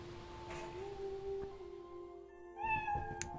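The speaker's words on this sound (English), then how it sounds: "Oh, Miss Kitty." A cat meows in the video game Iris.Fall, a couple of short clear calls near the end over a steady tonal game music drone, with no talking.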